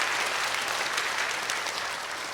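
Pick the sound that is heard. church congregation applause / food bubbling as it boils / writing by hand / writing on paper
church congregation applause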